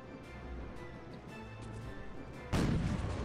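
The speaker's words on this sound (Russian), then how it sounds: "Так, выстрел." An artillery piece fires in the strategy game Cossacks 2, a single loud broadband blast cutting in near the end over a steady bed of battle ambience.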